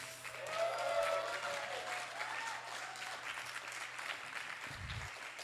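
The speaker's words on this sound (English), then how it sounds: "Big round of applause for April." An audience at a student music showcase at An Lanntair claps steadily at moderate loudness, a soft fading tone lingering at the start and a low thump near the end.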